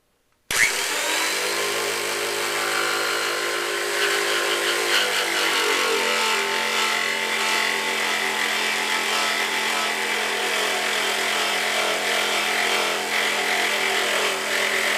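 Power saw slowly cutting a scarf joint in wood for a cigar box guitar neck, starting abruptly and then running as a steady, loud whine with grinding cutting noise throughout and no talking.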